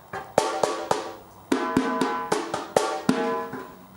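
A tuned samba caixa snare drum is struck in a loose pattern of sharp, ringing hits, some singles and some quick pairs, close and moderately loud, with no talking.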